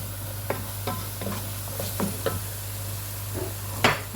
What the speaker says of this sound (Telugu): మనం ఇందులోనే ఫ్రై చేసుకుని ఆనియన్ వేసుకున్నామండి